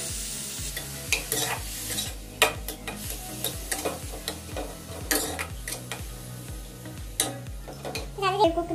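Cabbage stir-fried in a pan for homemade momo stuffing: steady sizzle and frying under rhythmic scraping and clinking of a spoon against the pan, close and continuous.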